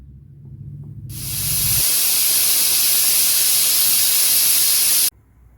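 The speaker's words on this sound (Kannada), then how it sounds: "ಕುಕ್ಕರ್ದು ಲಿಡ್ ಕ್ಲೋಸ್ ಮಾಡ್ತಾ ಇದ್ದೀವಿ ಎರಡು ವಿಸಿಲ್ ಕೂಗಿಸ್ಕೊಳ್ಳೋಣ" Pressure cooker on a home stove venting a loud, steady hiss of steam while cooking spinach dal, the rushing whistle rising quickly and holding for about four seconds before cutting off sharply, with faint kitchen noise before and after.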